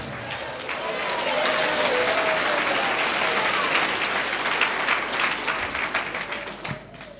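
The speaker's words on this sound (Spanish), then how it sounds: "Fuerte aplausos, Iglesia de Cristo." Church congregation applauding loudly and continuously, dense clapping from a large crowd that swells and holds for several seconds, with faint voices mixed in.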